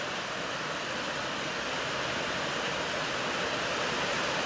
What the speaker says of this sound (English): What are the chances when I'm moving, it starts to downpour?